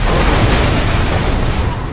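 A dense, loud blast rumbles through a short burst of chaotic combat in the zombie game Dead Island 2, with deep booming energy that fades slightly by the end.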